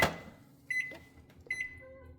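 Panasonic NN-SD664W inverter microwave oven giving two clear electronic beeps as its keypad is pressed, close and distinct over a low steady hum, with no voices.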